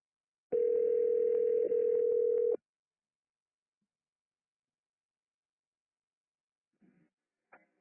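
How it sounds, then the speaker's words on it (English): A steady telephone tone on a police line placed on hold while waiting for an operator lasts about two seconds, then nearly silent waiting follows with faint brief sounds near the end. "please hold for the next available operator"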